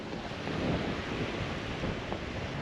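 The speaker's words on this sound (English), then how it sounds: "Okay, well it's windy" Strong wind buffets the microphone in a continuous, loud roar with low rumbling gusts and no talking.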